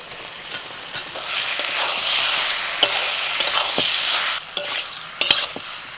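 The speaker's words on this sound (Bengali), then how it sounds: "একটু নাড়াচাড়া করে নিয়ে এবার আমি আলু আর সয়াবিনটাও দিয়ে দিচ্ছি।" Ridge gourd, potato and soya chunks are stirred in a hot pan, a close sizzle broken by sharp utensil knocks and scraping strokes at irregular moments, with no one speaking.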